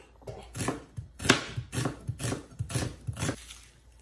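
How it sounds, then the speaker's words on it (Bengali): A knife chops an onion on a board in a home kitchen, with about eight crisp, evenly paced strikes close up and no voices. "এখন আমি পেঁয়াজটা কেটে দিচ্ছি।"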